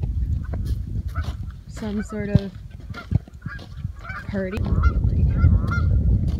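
Canada geese honk near a barn in a loud flurry of overlapping calls, some close and some further off, while a person talks over them and wind and ground rustle fill the background.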